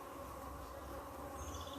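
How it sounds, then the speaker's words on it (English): Honey bees buzz steadily at honey syrup in a dense, continuous hum, many insects close together with no pauses. "You see all the bees coming at it."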